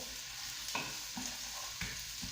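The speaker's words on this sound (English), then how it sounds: "So I'm just going to add some onions. I've got it already sort of frying away." Chopped onions sizzle steadily in a hot pan for tomato pasta sauce, with a few soft scraping stirs cutting through the constant crackle.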